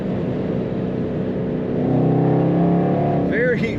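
A supercharged 2013 Ford Mustang GT engine heard from inside the cabin hums, then climbs in pitch as it revs up and accelerates near the end.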